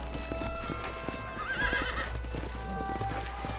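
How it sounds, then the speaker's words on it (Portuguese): A horse clip-clops along at a steady gait in Red Dead Redemption, with regular hoofbeats, an occasional whinny and a low ambient drone underneath. "Sobe no meu cavalinho."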